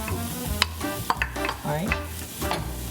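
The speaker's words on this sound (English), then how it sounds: "the oil is warm right now, so I'm gonna add an onion in there" Onion added to warm oil in a home kitchen pan, a close, soft sizzle under intermittent stirring and scraping clicks, steady throughout with no talk.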